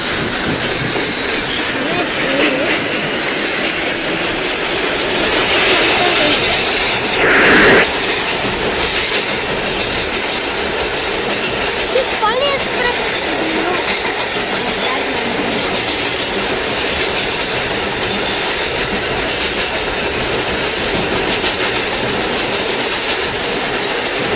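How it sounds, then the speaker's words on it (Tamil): A Palani Express train pulls out of a station in a Roblox game, its steady rumble and clatter running loud and continuous throughout, with a brief brighter burst midway. "வந்துச்சு கைஸ் பழனி எக்ஸ்பிரஸ். ட்ரெயின் கிளம்பிடுச்சு."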